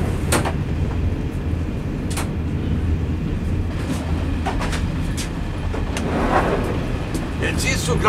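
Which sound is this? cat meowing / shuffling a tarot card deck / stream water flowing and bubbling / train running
train running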